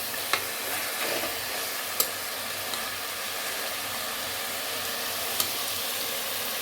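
Pieces of mutton fry in a hot pan with a steady, dense sizzle, broken by a few sharp scrapes and clicks as a utensil stirs the meat, close and continuous with no talk.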